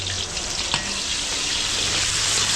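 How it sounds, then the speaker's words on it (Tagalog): Garlic, onion and shrimp paste sizzle loudly in a hot pan, a dense steady frying hiss with a faint clatter of stirring near the start. "Igisa natin sa bagong. So lalagay tayong bawang, sibuyas."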